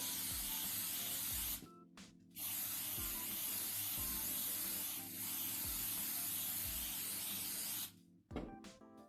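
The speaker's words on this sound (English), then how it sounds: "So now I'm just going to spray" Long continuous hiss of an aerosol spray can painting a bottle, pausing briefly twice, with light handling knocks underneath.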